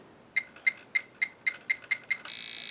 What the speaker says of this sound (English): you hear a little beep in the middle, that means it's going to be centered